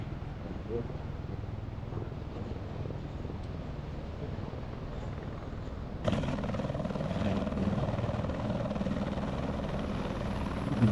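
A helicopter on the road to Tibet gives a steady, loud rotor and engine roar with wind noise, and it grows abruptly louder partway through.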